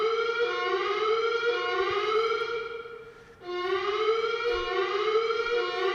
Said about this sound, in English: We are investigating an alarm condition.